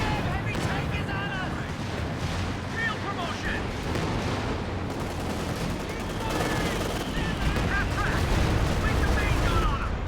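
Artillery barrages and explosions in a Company of Heroes 2 match, rounds of heavy fire landing in dense continuous rumbling bursts with crackling impacts, under a commentator's voice throughout.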